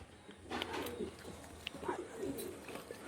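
Teddy pigeons at a pigeon sale in Kolkata coo softly in low, rolling bursts, with faint chirps and other bird calls around them at a moderate distance, with no talk.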